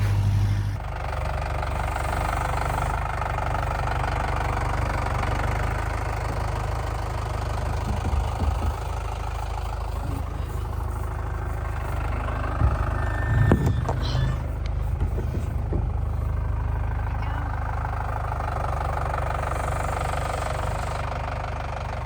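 A farm tractor engine idles nearby while the farm prepares for a hurricane, a steady low rumble throughout with a few brief clanks and knocks midway and no talk.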